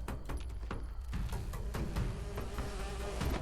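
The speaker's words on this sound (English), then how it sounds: "So there's a bee swarm there." In Fallout 76, a bee swarm gives off a dense, steady insect buzz, close and continuous, with scattered clicks and game noises over it and no talking.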